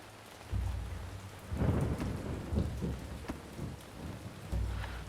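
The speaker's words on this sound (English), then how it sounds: "Lovely thunder." Thunderstorm with rain in the city-building game Ancient Cities: steady rain hiss under repeated low rolling thunder rumbles that swell and fade across the clip, fairly loud and close, with no talk.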